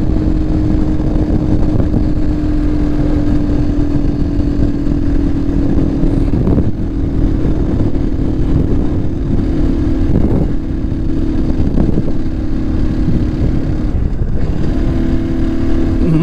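A motorcycle engine drones steadily and loudly while climbing a mountain road on the way to Muktinath in Nepal, holding a constant pitch with a few brief dips as the rider shifts.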